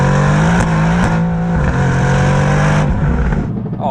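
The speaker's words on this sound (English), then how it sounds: "I think you can hear it, the switchable sports exhaust" A 2021 Mercedes-AMG GT R with its switchable sports exhaust open thunders close up, a loud harmonic engine drone with sharp rev spikes and gear changes, easing off at the end with crackles as the throttle lifts.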